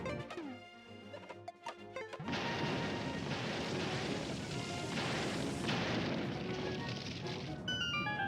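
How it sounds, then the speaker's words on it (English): Bomb explosions in the video game The Legend of Zelda: A Link Between Worlds on Death Mountain, a sustained rumbling burst of blasts and crashing debris after a few short game tones, fairly loud with some talk. "Wow, I just realized those are really wimpy explosions."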